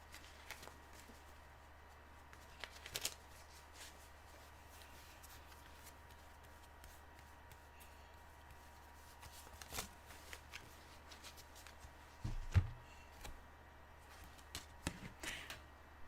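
Tarot cards shuffled by hand near the microphone, with soft repeated riffling and flicking bursts over a quiet room hum and a few sharper card snaps toward the end.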